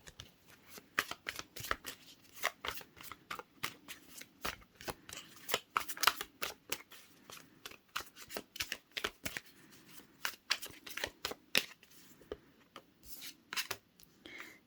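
Rapid, crisp riffling of tarot cards, repeated in quick bursts with soft rubbing between them, close by and steady throughout, with no talking.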